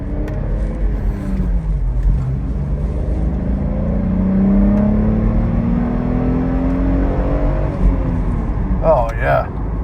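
A VW Golf Syncro engine pulls hard in first gear, its drone rising steadily in pitch over several seconds with a loud, continuous rumble and whir before it eases off near the end.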